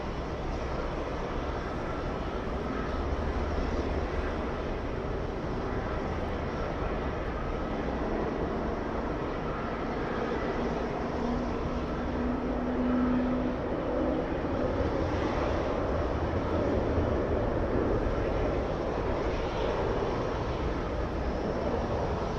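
Airliner arriving at JFK airport on a flight from Los Angeles, its engine roar a steady, continuous broadband rumble throughout, moderately distant, with no voices.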